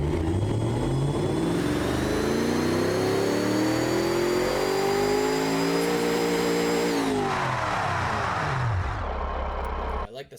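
A hatchback's engine in the racing sim Automation revs steadily upward as a sustained, loud drone with rising harmonics, then drops sharply near the end before cutting off.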